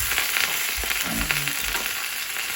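A tuna steak fries in a pan, giving a steady close sizzle with a few soft clinks and stirring scrapes and no voices.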